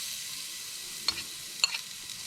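Grated garlic, about six cloves, sizzling in a hot pot next to toasting spices: a steady soft hiss with two quick crackling spikes as it hits the fat.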